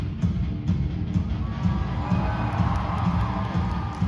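An audience cheers for the Jujutsu Kaisen character Kamo, a dense, steady crowd roar with scattered shouts across a few seconds.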